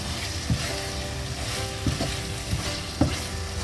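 Boiled eggs frying and being stirred into biryani masala in a pan, a steady close sizzle with a few sharp spoon-scraping knocks every second or so, no talking.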